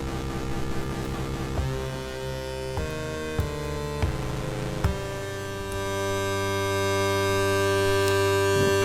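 Endorphines Godspeed eurorack synthesizer module playing sustained, evolving tones with reverb and delay, rich harmonic drones shifting in a few distinct steps and swelling near the end, steady and fairly loud with no voices.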